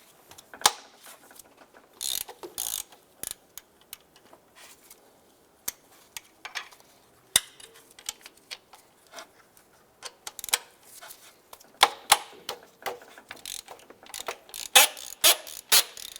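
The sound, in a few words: loosening 15mm alternator bolt and nut, Ford Fiesta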